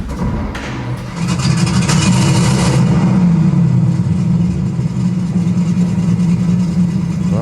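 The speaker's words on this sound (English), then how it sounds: "There's an audio system here with the exact sound of the engine." A 1935 V12 car engine played back through a museum audio system at a Ford house and classic car collection, a steady, loud idling rumble with slight revving that swells after the first second and holds evenly to the end.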